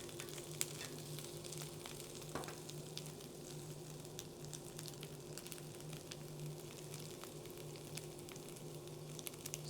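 Carrot hot dogs sizzle and crackle on a grill, a soft continuous frying hiss with scattered small pops, faint and steady with no talking.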